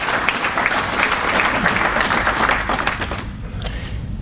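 Audience applause for local schools during a city chamber of commerce address: dense, sustained clapping from a large crowd that fades down toward the end.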